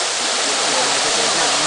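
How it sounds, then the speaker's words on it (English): Berry Creek Falls, the main fall, pours with a loud, constant, broadband roar of falling water, close and unbroken throughout. "this is the main fall right here"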